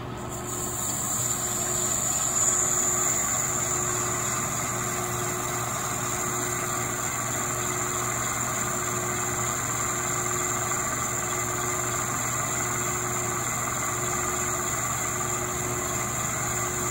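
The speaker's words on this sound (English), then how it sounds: "Boring bar takes two facing passes." A lathe with a boring bar makes facing passes on an industrial thrust bearing plate, giving a steady mechanical hum with high whining tones and a faint cutting hiss throughout, even and moderately quiet.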